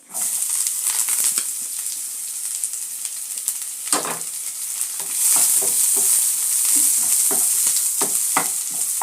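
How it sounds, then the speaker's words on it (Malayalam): Sliced onions sizzling and frying in hot oil with dried red chillies for okra thoran, a steady close hiss that runs the whole time, broken by repeated scraping stirs of a spoon against the pan, with no talk. "ഒന്ന് വഴണ്ട് വരണം അപ്പോൾ ഉള്ളി വഴണ്ട് വന്നിട്ടുണ്ട്"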